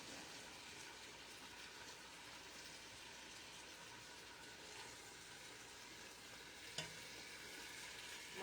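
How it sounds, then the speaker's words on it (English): Onions sizzling and being stirred in a tall pot while sautéing for Filipino pancit, a steady close frying hiss with faint scraping of the spoon and one brief clack. "push those onions down. Get them sauteed."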